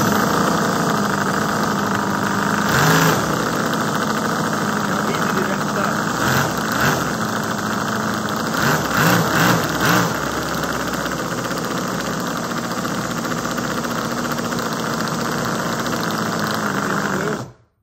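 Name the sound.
Toyan X-Power V8 model engine running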